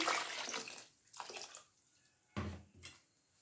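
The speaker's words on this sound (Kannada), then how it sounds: "ನಾನು ಇನ್ನೂ ಒಂದು ಸ್ವಲ್ಪ ನೀರು ಹಾಕ್ತಿದ್ದೀನಿ." Short bursts of water splashing into a mixer jar, separated by quiet gaps, with a couple of brief pours near the end.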